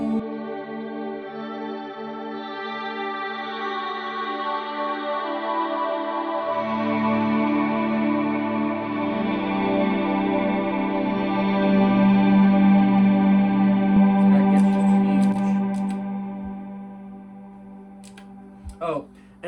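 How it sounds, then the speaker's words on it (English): Electric guitar played through a JET Pedals Revelation reverb pedal in kill dry mode gives sustained, washy reverb tones that swell and thicken before fading, with no talking. "Turn this on. It's just reverb."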